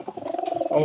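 A white pigeon coos softly up close, a short throaty warble lasting under a second, with no other sounds around it.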